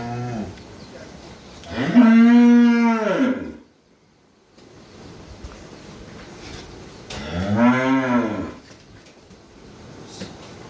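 A soft-bodied, well-fed cow of short height, kept for quick fattening, gives two long, loud, close moos, each lasting about a second or more, separated by a brief silence and low background noise.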